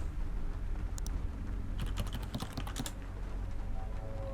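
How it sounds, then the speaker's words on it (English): Keyboard typing in The Occupation video game: a few isolated key taps followed by a quick burst of crisp keystrokes, close and clear over a quiet hum, with no talking. "I like the sound of the typing in this game."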